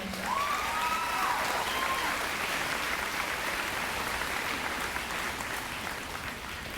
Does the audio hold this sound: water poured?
no